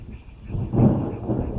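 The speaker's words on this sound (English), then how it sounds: "There was a big lightning bolt overhead." Thunder from a big lightning bolt overhead during a storm, one heavy rumbling boom that swells and then rolls on, loud and close, with no voices.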